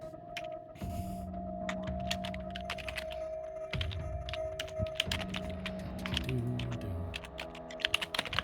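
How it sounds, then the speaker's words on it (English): Rapid, continuous clatter of typing on a computer keyboard, close and steady for several seconds, with a faint steady tone running underneath. "Don't mind the typing."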